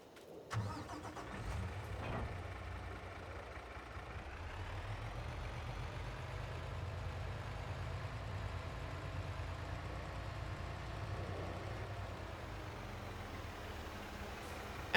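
In Farming Simulator 22, a truck engine starts up and runs steadily, a low engine drone that stays constant and fairly faint for the whole stretch with no talking.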